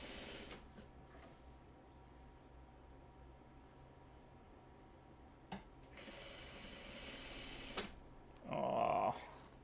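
A home sewing machine stitches a Four Winds quilt block, running in steady whirring bursts with pauses between, close and moderately loud, ending in a louder higher-pitched run; no one talks.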